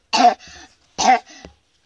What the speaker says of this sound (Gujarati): આવી રીતે ઉધરસ ના ખા